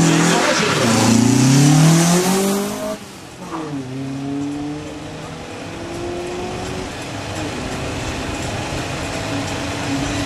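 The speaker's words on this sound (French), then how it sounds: "cette BMW 2002, groupe 2 1973, qui s'élance maintenant pour cette belle" A 1973 BMW 2002 Group 2 race car launches at a historic hill climb, its engine revving hard through rising gear pulls, loud and near at first and then fading into the distance.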